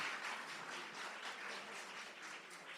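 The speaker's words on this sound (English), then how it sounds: "let's give the mayor another round of applause" Audience at a Miami-Dade budget town hall giving the mayor another round of applause, a steady wash of many hands clapping, fairly soft and distant, with no speech over it.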